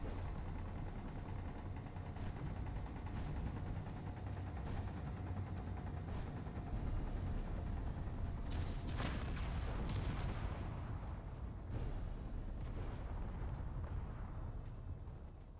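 Ship defense turrets firing on the player in the space game Space Engineers: a dense, steady roar of rapid impacts and blasts continues throughout, with heavier crackling bursts around nine to ten seconds.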